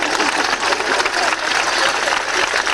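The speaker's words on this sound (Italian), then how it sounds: "Grazie signore dell'applauso" A live comedy audience claps in a dense, continuous burst of applause at close range, a few voices faintly mixed into the clatter.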